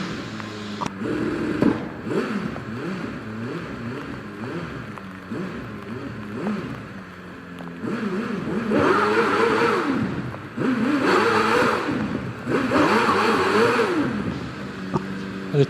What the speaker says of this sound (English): a totally different sound there of Alex Summers' Cosworth XD engine compared to the Judd's and Wallace's bigger XD